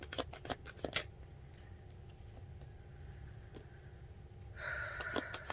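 A deck of tarot cards is riffled and shuffled in quick rapid bursts, faint and close, with a short pause between flurries.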